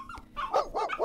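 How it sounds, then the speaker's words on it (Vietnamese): A dog barks several times from inside a house behind an iron gate, a quick burst of loud, close barks with a rising yelp at the start, heard alone with no talking. "tiếp theo đó là tiếng sủa gâu gâu."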